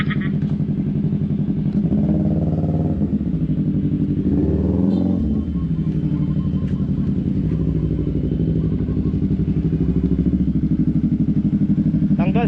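A Yamaha YZF-R3 motorcycle engine with its silencer removed runs loud and close, blipping and revving with a raspy, rattling exhaust note over steady idle throughout.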